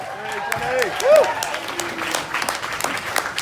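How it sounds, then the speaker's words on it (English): A comedy club audience claps as a comedian is introduced, a steady patter of hand claps with voices and cheering mixed in, moderately loud throughout. "get the slow clap going and bring it up nice and loud"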